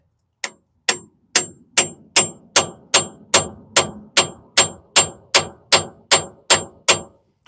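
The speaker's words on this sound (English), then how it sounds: "we're going to press this until we hear the pitch change on the hammer" A hammer strikes a bearing race to press it into place: about fourteen sharp, evenly spaced blows, each with a bright metallic ring that decays before the next. The blows are close, loud and alone, with no talk.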